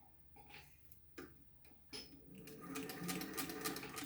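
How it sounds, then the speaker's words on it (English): A sewing machine runs a quick straight stitch on a fabric face mask with a pocket: faint clicks at first, then a steady, rapid mechanical whir building toward the end, quiet and close. "Then it goes underneath of the machine, and you're just going to do a very basic, quick, straight stitch."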